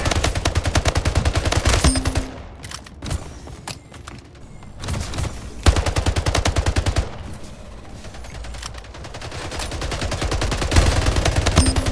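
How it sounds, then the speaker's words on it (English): Rapid automatic gunfire bursts in a video game shooter, loud and close, with clusters of shots separated by brief lulls and a final sustained volley. "Never that gun again. Oh, God. Panic shooting only."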